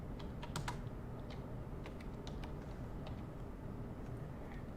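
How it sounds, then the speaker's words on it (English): Typing on a computer keyboard, quick irregular bursts of light key clicks at close range over a quiet background hum, with no talking. "whenever I'm typing this out, I use batch entry, so I can type as many lines out"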